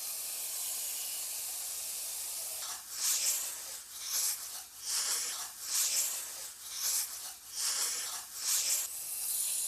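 Garlic sizzling in hot oil for a mushroom and butternut squash bisque, a hiss that starts steady and then swells into repeated bursts of loud crackling spatter, with no talking.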